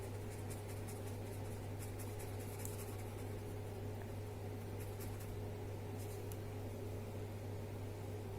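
A colored pencil scratches softly across paper while shading in a mandala, with faint intermittent strokes over a constant low hum of background noise and no talking.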